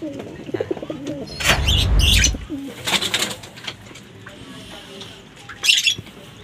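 Pigeons in a loft coo and squawk close by, with one loud squawking burst early on, then scattered calls and softer cooing.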